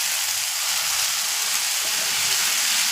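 Boiled goat brain frying in a hot pan over a high flame, a steady, loud broadband sizzle and hiss that holds unbroken throughout with no talking.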